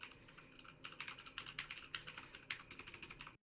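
Quiet, rapid typing on a computer keyboard, with a fairly even run of close key clicks and occasional heavier strokes, and no voices.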